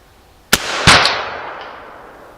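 Two sharp gunshots, fired through brush from a rifle, crack in quick succession close by, each trailing off in a long fading echo outdoors, with no talk.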